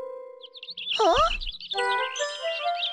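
A cartoon bird chirps in quick bright tweets against a high tinkling jingle, with a short spoken exclamation in the middle of the sounds.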